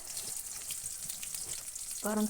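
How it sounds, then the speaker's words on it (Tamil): Green chillies and onion sauté in a pan with a steady, moderately quiet sizzle and crackle, and a short voice comes in at the very end. "பச்சை மிளகாவும் வெங்காயமும் நல்லா வதக்கி விட்டுக்கலாம்"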